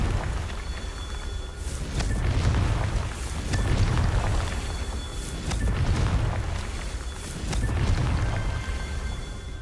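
Confringo blasting spells in Hogwarts Legacy, heavy booming explosions that repeat in several waves, each a deep rumbling burst with crackling debris.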